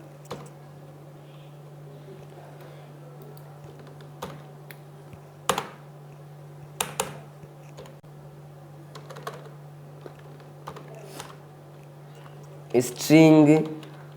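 Computer keyboard keys tapped in scattered short bursts while Python code is entered, faint clicks over a steady low electrical hum, with a louder cluster of rapid clatter near the end.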